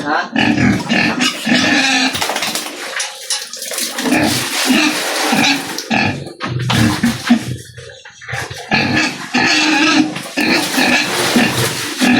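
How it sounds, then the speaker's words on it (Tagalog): Large farm pigs grunt and oink repeatedly at bathing time, loud and close, with splashing water and bursts of human talk mixed in among the animal calls. "dapat natin paliguan sa mga baboy"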